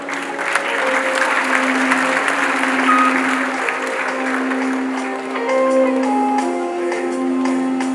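An audience applauds at a music event, dense clapping sustained at a steady, moderately loud level for about eight seconds with faint tonal sounds underneath.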